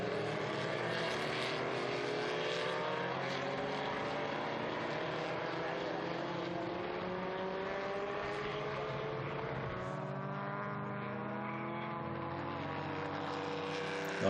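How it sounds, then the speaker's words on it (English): A historic Porsche 904 race car runs on the track at the Estoril Classics historic racing meeting, a continuous engine drone rising and falling in pitch as it passes, with a race commentator talking over it. "Beautiful Porsche 904."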